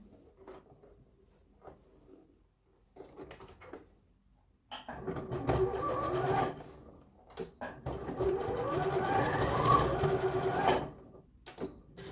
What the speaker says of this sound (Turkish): Şimdi şuradan dikiyorum lastiğimiz kaçmasın diye.